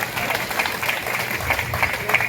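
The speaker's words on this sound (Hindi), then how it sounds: "जोरदार तालियां बजा दो।" Audience applause at a Holi gathering fills the room, steady and moderately loud throughout, with a voice faintly underneath.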